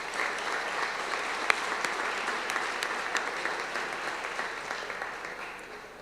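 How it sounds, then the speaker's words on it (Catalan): An audience at an entrepreneurs' awards ceremony applauds, a dense and sustained round of clapping heard fairly near that fades slightly toward the end. "Un fort aplaudiment per a ells."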